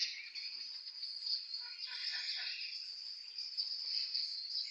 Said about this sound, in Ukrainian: тут співають шпаки.